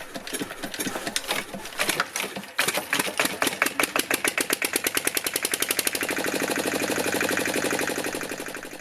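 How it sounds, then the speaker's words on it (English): An Enfield VS1 "100" diesel stationary engine cold-starting in snowy weather: after an early cranking attempt it catches and fires in a fast, steady, accelerating run of loud, close, regular combustion beats that settle into an even running rhythm. "I would expect the engine to start on about the fourth try at today's temperature."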